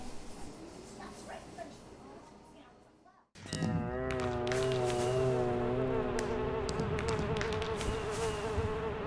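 A sound system at a big outdoor showbiz event in a pedestrianised zone gives off an electric buzz. After a brief drop-out, a loud, steady humming drone sets in and holds with a rich, wavering tone.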